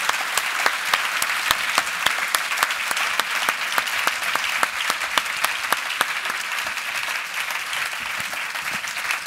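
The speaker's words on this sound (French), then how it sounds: "vos applaudissements, mesdames, messieurs, iront au professeur Dubernard" Sustained, loud applause from a large audience paying tribute to Professor Jean-Michel Dubernard at a health-day ceremony, dense steady clapping throughout with no talk over it.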